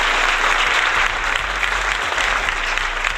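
A crowd at a party in Jamaica claps steadily and fairly loudly for about three seconds, a dense patter of many hands with a low hum underneath.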